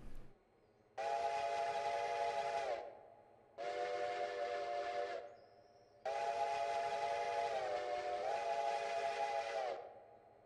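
A custom flat-top five-chime steam whistle from the Railroader train game sounds in three long blasts, each a rich layered chord holding steady before cutting off, with short silent gaps between, loud and clean with no talk.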